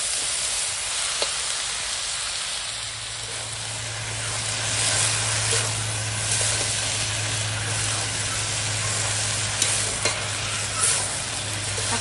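Mixed vegetables, including papaya, are sautéed together with carp and kulekanta greens in a pan, giving a loud, continuous sizzling hiss with occasional stirring clicks and a low steady hum that begins partway through.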